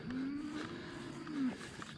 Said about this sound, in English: This is probably our oldest cow.